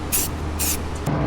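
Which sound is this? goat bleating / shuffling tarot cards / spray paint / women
spray paint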